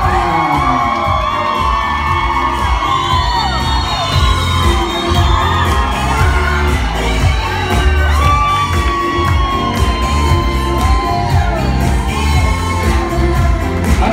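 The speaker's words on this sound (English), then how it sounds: "Let's give another round of applause." Wedding guests in a reception hall cheer, whoop and shout continuously as the newlyweds are welcomed, a loud, dense crowd roar with children's shrieks running throughout without pause.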